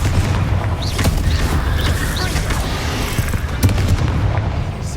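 Bombarda spell blasts in Hogwarts Legacy, booming low thuds amid loud continuous combat rumble, with several sharp impacts spread across the stretch and no speech.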